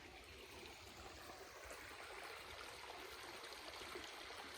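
Cedar Creek on the Ozark Highlands Trail flows with a steady, soft broadband rush of running stream water, continuous and fairly distant, with no voices.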